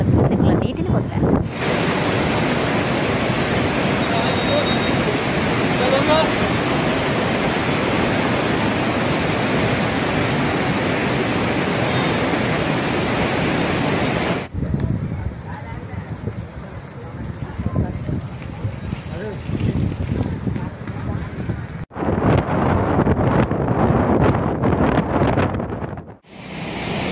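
Floodwater from a reservoir released downstream through 19 open dam gates at about 86,100 cusecs roars continuously, a loud rushing wash that drops and shifts partway through.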